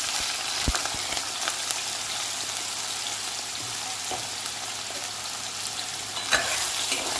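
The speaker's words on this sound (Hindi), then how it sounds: "तेल गर्म हो गया है, अब हम इसमें आलूओं को डाल देंगे।" Potato pieces fry in hot oil with a steady, dense sizzle throughout, stirred now and then with a few soft utensil scrapes and one sharper knock near the start.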